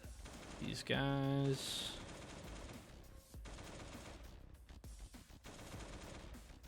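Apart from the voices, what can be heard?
AK rifle gunfire in a video game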